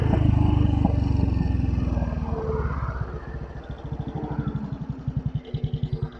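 A Royal Enfield Bullet 500 with a sidecar rasps loudly at first, then settles into a nearby thumping single-cylinder exhaust beat of distinct, even pulses.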